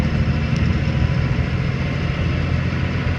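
A truck engine with a split rear gearbox runs steadily at a loud, constant drone while gears are shifted without the clutch, the low rumble continuous throughout with no talking.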